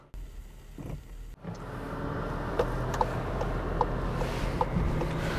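A Volkswagen Golf GTI Clubsport setting off on a drive, its engine note a low steady hum heard from inside the cabin, rising slightly after a quiet start with a few faint clicks and knocks.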